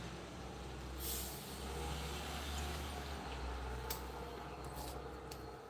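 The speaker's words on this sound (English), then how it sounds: "there's a freaking UPS truck coming while I'm trying to go live" A UPS delivery truck rumbles past outside with a steady low engine drone, a sharp hiss of air brakes breaking through twice along the way, heard from indoors at moderate distance with no talking.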